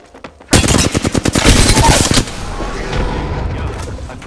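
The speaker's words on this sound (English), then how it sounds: "I'm taking shots." Video game gunfire: a loud, rapid automatic burst of shots lasting under two seconds, then a lingering rumbling echo that slowly fades.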